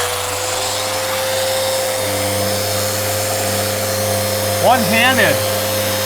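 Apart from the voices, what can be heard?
Festool Rotex 125 sander running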